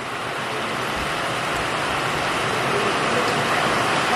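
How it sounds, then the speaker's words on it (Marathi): Steady rain falls at a hill-country agro-tourism resort in Tapola, Maharashtra, a dense, even hiss that stays loud and continuous throughout with no voices. "सकाळपासून पावसाने एकदम आराम घेतला होता, मात्र आत्ता चालू झाला आहे"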